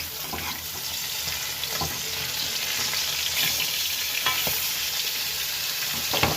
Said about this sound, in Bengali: মাছটা প্রদীপটা ভাজা হয়ে গেছে এবার আমি একটু ওলট পালট করে নেব